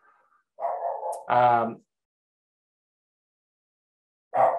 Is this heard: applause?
no